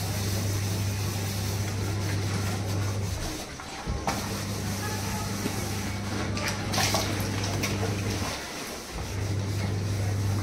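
Water runs fast from a pipe while dishes are washed indoors, making a continuous close splashing rush over a low steady hum that breaks off briefly twice.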